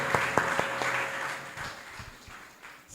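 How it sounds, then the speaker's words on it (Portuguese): A church congregation applauds together during a worship service, a dense, sustained wash of clapping with a few sharp individual claps at the start, fading gradually toward the end. "Então vamos aplaudir Jesus pela vida dessa visitante."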